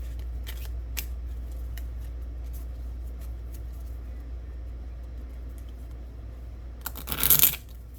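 Oracle soulmate cards being shuffled by hand, with quiet, sparse card flicks, then a short, louder riffle burst near the end.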